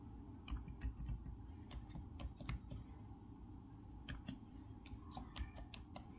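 Quiet keystrokes on a computer keyboard as a Windows 11 command is typed, a loose series of soft clicks and taps over a low background hum.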